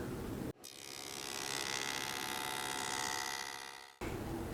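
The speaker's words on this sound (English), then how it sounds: "switch your saw over to the ripping blade to trim them free" A table saw fitted with a ripping blade cuts hardwood trim strips free from a rabbeted board, one loud sustained whining cut of about three and a half seconds rising and holding steady, with shop noise before and after.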